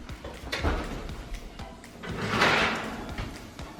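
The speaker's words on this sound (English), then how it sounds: "Afterwards, I'm gonna open up the oven, flip it, and do it for another 8 minutes" Oven door opening for flipping tofu, a close clunk followed by a soft rising whoosh of the door swinging and settling, with light handling knocks around it.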